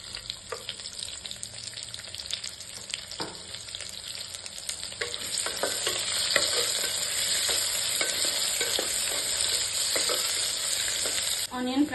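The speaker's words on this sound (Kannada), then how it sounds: "ಆನಿಯನ್ ಫ್ರೈ ಆಗಿದೆ." Chopped onion sizzles in hot oil with whole spices in a pressure cooker for egg biryani, a steady close frying hiss broken by the scrape of a stirring spoon.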